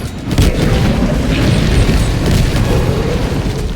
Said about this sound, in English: We lob 2 500 kilo bombs onto number 12 and hope to kill it through sheer attrition.